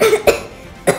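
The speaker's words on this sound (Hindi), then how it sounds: "यार आप लोगों को खांसी पता है कितनी ज्यादा हो रही है, गला कितना खराब है" Several harsh coughs from a person with a sore, irritated throat caused by heavy smog, three sharp bursts spaced over about a second, loud and close.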